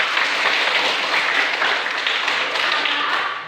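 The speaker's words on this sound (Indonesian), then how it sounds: "luar biasa, tepuk tangan" Students in a classroom clap together in a steady, continuous patter that lasts the whole few seconds, fairly close and with no voices over it.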